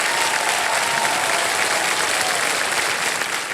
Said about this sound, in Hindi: ताली बज जाए बहुत जोरदार